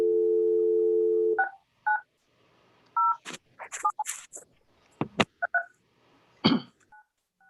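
A phone on speakerphone during a board meeting gives a steady dial tone, then a quick series of short beeping dialing tones, each brief and separated by small gaps.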